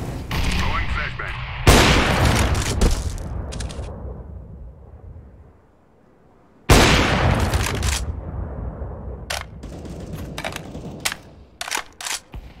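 Grenade explosion in a tactical shooter video game, two loud sharp blasts several seconds apart with decaying rumble, followed by scattered gunshots, with players' voices talking over the action.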